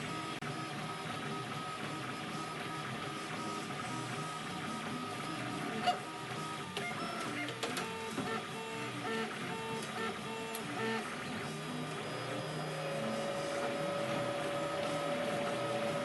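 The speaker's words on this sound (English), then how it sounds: "While the printer is working on those plugs" A 3D printer runs steadily while printing plugs for shelf leg forms, giving a continuous mechanical hum with faint stepper-motor whine and a few small clicks, steady and close with no talking.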